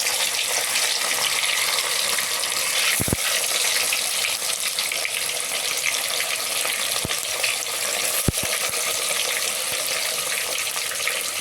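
Paneer cubes and a pinch of asafoetida fry in a clay pot, giving a loud, steady sizzling hiss with a few sharp clicks of a utensil against the pot.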